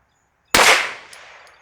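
A single sharp pistol shot from a longer-barrel Hi-Point firing 90 grain loads cracks loudly after a short silence, then rings off into a fading tail.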